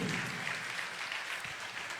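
A church congregation claps warmly to welcome a priest at a thanksgiving Mass, a dense, even wash of applause throughout.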